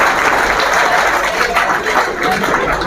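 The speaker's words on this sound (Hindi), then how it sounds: "जोरदार तालियां" A crowd at a Bhiwani class gives hearty, sustained applause, a loud continuous wash of many hands clapping with no break.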